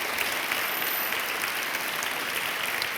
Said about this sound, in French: On peut applaudir très fort Amine